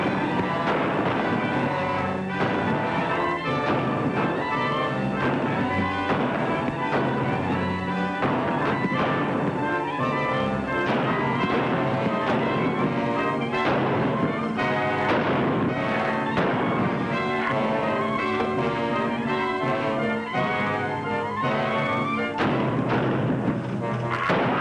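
Gunfire from a blazing gun duel in a 1953 western film: a run of sharp, booming shots at irregular intervals, layered over loud, dense dramatic orchestral music throughout.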